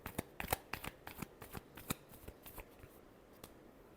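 Tarot cards are shuffled in a rapid run of crisp riffling flicks and slaps, close and fairly quiet, fading toward the end.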